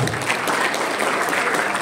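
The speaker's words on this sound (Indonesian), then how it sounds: "Tepuk tangan untuk komite." A crowd at a school graduation ceremony in a Surabaya hotel applauds the committee, a brief, steady burst of dense clapping.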